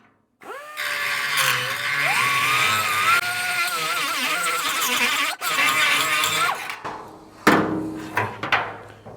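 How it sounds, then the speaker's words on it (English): A small die grinder with a carbide burr works on a rusty Model A Ford body brace, giving a steady high-pitched whine that shifts pitch for several seconds, then stops before a few short clanks. "went and grabbed a carbide burr on my little die grinder"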